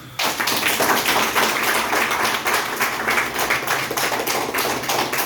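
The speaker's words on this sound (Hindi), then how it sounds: "एक बार शानदार तालियां।" Seminar audience claps steadily for about five seconds, a dense, loud, continuous patter of many hands with no talking over it.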